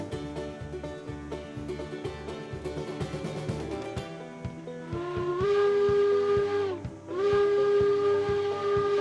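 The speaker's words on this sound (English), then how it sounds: "Toot the whistle like that" A chuffing train rhythm gives way to a loud steam whistle blown twice, long sustained tones with a short break between them, synthetic and game-like, from a steam locomotive in the video game Railroads Online.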